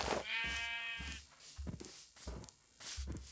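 A sheep in a farm-building video game bleats loudly and close, one long quavering bleat followed by several short muffled thumps and bumps.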